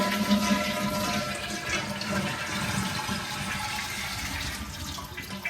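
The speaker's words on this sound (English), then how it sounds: "Full flusherino time." A toilet flushes after a repair to its leaking tank, a continuous rush of water running strongly for several seconds and easing slightly at the end.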